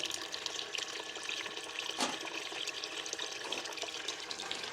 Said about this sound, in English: we'll give you guys a little sluice eye view.